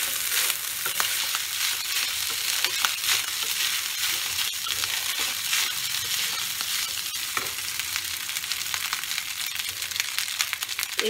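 Onions frying in a generous amount of oil for Bengali fried rice give a close, steady hiss and crackle, sizzling continuously with occasional stirring scrapes and no talk.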